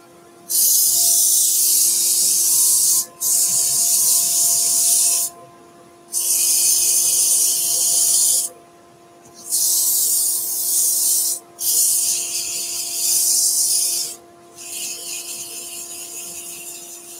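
Sandpaper rubbing on a turned wooden salt and pepper grinder spinning on a lathe, harsh hissing bursts of several seconds each broken by short pauses, over a faint steady motor hum.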